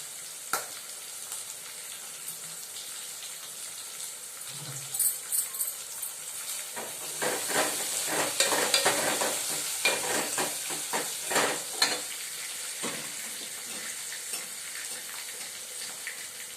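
Curry leaves and coriander leaves fry and get stirred in a pan, a quiet hiss that swells into crackling sizzles with scraping stirs, close by, no talking.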